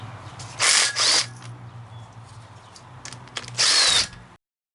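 A power drill or impact driver on a Chrysler 3.5 engine during teardown, taking off the rocker arm assemblies, gives two close whirring bursts, then a quieter stretch of small clicks and a final loud burst.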